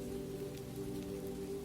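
Rain falling steadily in a cozy bistro setting, a soft continuous patter with a low, even hum underneath, quiet and unbroken throughout.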